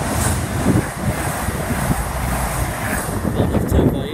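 A CrossCountry passenger train rumbles through Cross Gates station at a moderate distance, a continuous low roar with faint rail rattles, steady throughout.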